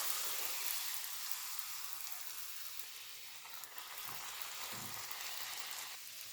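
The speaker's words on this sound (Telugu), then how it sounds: "వేడిగా ఉంటేనే బాగా వస్తాయి పూరీలు మంచిగా కాలుతాయి నూనె మంచిగా వేడిగా ఉండాలి" Puris fry in very hot oil, giving a continuous soft, hissing sizzle with faint crackles and a few brief bubbling swells. The sound is fairly quiet and steady, and no voices are heard.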